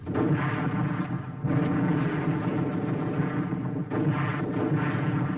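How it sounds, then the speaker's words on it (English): Mortar fire in a 1944 war film rumbles as a dense, continuous low roar of distant bombardment, heavy and unbroken for several seconds with slight swells, with no voices over it. "Mortar."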